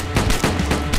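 A gunshot burst in a shooter video game, loud and sharp, with a quick rapid cluster of reports in about one second.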